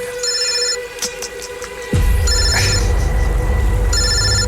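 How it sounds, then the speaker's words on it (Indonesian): A phone ringtone plays in repeated bursts of bright electronic tones, with a low rumble joining partway through. "tiba-tiba handphoneku berdering"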